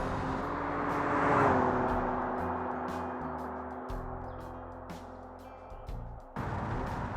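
A supercharged V12 engine in a BMW Z3 drones loudly at high speed on the Nordschleife, a steady sustained roar with wind rush that swells, dips under braking near the end, then picks up again.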